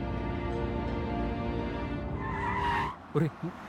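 A car pulls up with a short tire skid near the end, over a steady bed of music and voices, followed by a couple of brief knocks.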